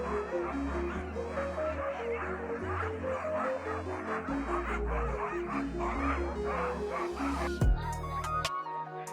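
Sled dogs bark and yip excitedly during a morning dog sledding outing in Lapland near Levi, scattered barks at moderate distance over a steady musical backing.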